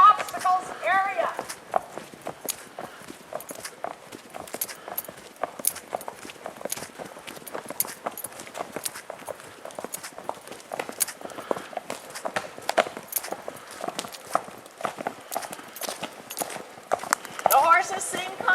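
Horses on a wooded trail with branches and deadfall walk at an even pace, their hooves clip-clopping steadily for the whole stretch, with voices in the background.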